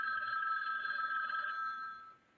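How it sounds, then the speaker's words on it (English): An old telephone bell rings on a steady tone, fairly quiet and alone, then cuts off near the end. "That must be the phone call we're expecting."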